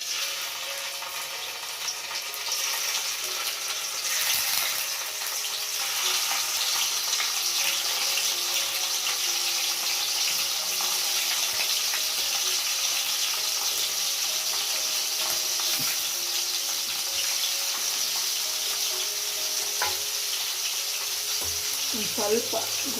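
Paneer cubes fry in hot oil in a pan, giving a steady, soft sizzle that holds throughout, with a few brief stirring clicks near the end.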